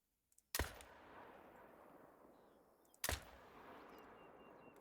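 Two rifle shots ring out in the hunting game theHunter: Call of the Wild, each a sharp, loud crack with a long fading tail, about two and a half seconds apart, with no talk.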